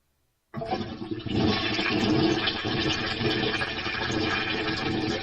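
A toilet flush erupts after a moment of silence, a loud close rush of water that swells and keeps churning steadily to the end.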